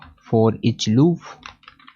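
Someone types code on a computer keyboard, giving a brief run of key clatter mixed in with a person's talk.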